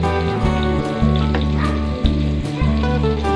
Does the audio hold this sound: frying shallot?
yes